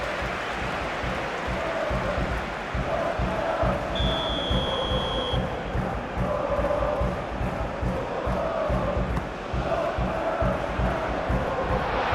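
A stadium crowd in the PES 21 football game roars steadily throughout, a dense continuous cheer with swelling chants and a brief whistle-like tone partway through.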